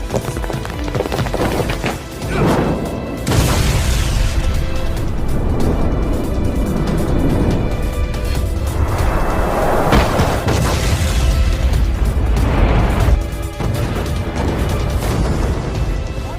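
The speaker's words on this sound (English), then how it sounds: "This ship just exploded!" In the Lost Judgment video game, a ship explodes with loud sustained booming and rumbling, several heavy blasts swelling over a constant roar of fire and debris for many seconds.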